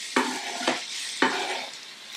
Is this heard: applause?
no